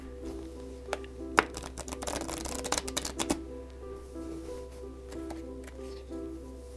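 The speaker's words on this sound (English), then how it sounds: "We'll have them do a second riffle shuffle." A deck of playing cards is riffle shuffled, giving a quick burst of fluttering, crackling card snaps in the middle with lighter taps and handling noise before and after.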